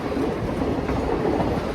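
Passenger coaches rolling behind Nickel Plate Road steam locomotive 358 on an autumn excursion, a steady continuous rumble of wheels on rail with faint rhythmic clickety-clack throughout.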